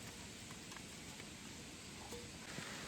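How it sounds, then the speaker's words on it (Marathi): Soft, steady patter of rain fills the background, faint and distant, with an occasional small drip or tap and no voices. "इकडे पाऊस चालू झाला"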